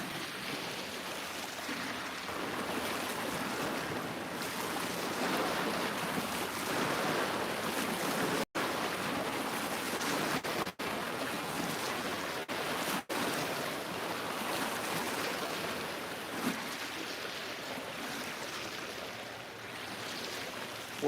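Ocean waves at a fishing spot make a steady broadband wash, with surf and wind noise rolling continuously and a few brief dropouts.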